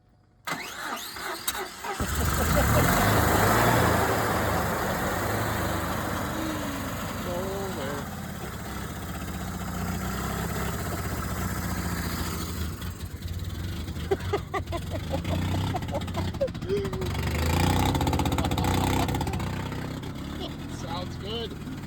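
A blown-up mini truck engine cranks and catches, then settles into a steady, rumbling idle close by for the rest of the stretch while people talk over it.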